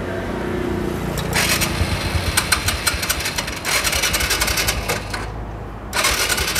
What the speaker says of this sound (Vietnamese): Con này em nổ máy cái cho anh chị mình nghe thử coi làm sao nha.